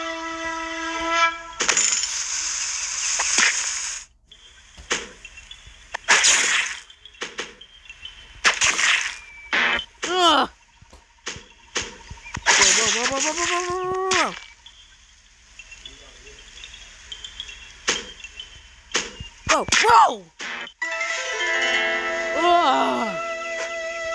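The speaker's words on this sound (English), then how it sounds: "I was trying to cut the fruit." Fruit Ninja game sounds: repeated sharp swishing slices and squelchy splats in irregular bursts, with musical tones and chimes between them, loud and close.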